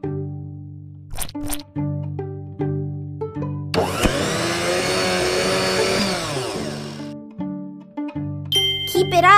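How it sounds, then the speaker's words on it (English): A blender in a kids' farm video game whirs loudly for about three seconds while making an orange smoothie, set among bright chiming musical tones before and after. "Put 1 piece of orange into the blender."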